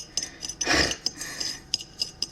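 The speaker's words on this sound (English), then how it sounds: "I'm gonna whisk it together with my very tiny whisk" A very tiny whisk beats ingredients for homemade soft pretzels, quick clinking ticks against a small bowl with one longer scraping swirl, close and alone.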